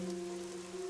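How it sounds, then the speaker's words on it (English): Rain falling in the video game Master Detective Archives: Rain Code, a soft steady patter under a sustained low musical drone, quiet and continuous. "The rain, it never stops."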